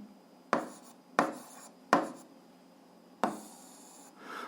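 Algebra working is written out by hand, four or five separate pen strokes scratching on paper, each a short sharp stroke that fades quickly, close and quiet with pauses between.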